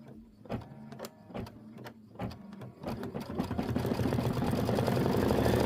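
An embroidery machine stitching Kimberbell Heart and Home door decor in a 5x7 hoop, its needle thumping in quick repeated bursts that build into a dense continuous mechanical whir, close and steady.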